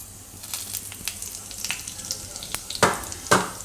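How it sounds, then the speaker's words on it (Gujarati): Mustard seeds and cumin hit hot oil for a Gujarati green bean dish, crackling and sizzling with sharp pops that grow louder toward the end, close up with no talking. "તો એમાં આપણે પહેલાં થોડીક રાઈ નાખીશું અને થોડુંક જીરું નાખીશું"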